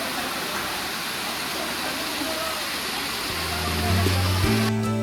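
A waterfall pours as a constant broad roar that fills the whole scene, with a low engine-like hum and tonal sounds creeping in near the end.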